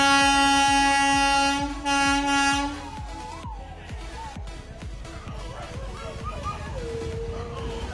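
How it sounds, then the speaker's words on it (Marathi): A railway locomotive on a freight line sounds long, loud horn blasts, then rumbles by with rhythmic clacking of wheels on rail while people talk nearby. "ट्रेन बिन काय नाही, मालगाडी आहे."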